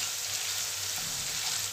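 Curry leaves and chillies fry in hot oil as a tempering for thin poha chivda, making a steady, close hiss of sizzling with no talking.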